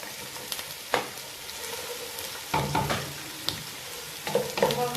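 Onions and peppers, cut into rough, uneven pieces, frying in hot oil while being stirred; a steady sizzle runs throughout, broken by brief clatters of stirring, with louder bursts near the middle and end.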